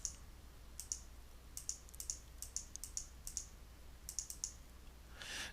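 Computer mouse clicks placing points of a polygon come as a quick, irregular series of crisp close taps, some in fast pairs like double clicks, over a quiet low hum.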